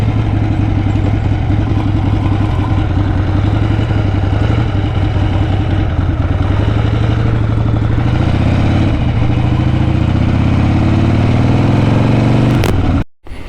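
A Harley-Davidson Ironhead motorcycle engine idles steadily and loudly up close in a front yard after a test ride, a low lumpy throb with a shift in pitch near the end before it cuts off abruptly.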